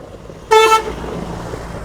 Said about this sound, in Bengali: যেহেতু হাইওয়ে সো গাড়ির চাপ একটু থাকাটাই স্বাভাবিক